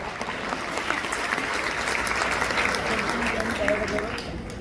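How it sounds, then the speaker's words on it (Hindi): An audience at a women's cultural celebration claps loudly and steadily for several seconds, a dense wash of hand claps that swells slightly and holds without a break. "एक बार जोरदार तालियां अपने आप के लिए"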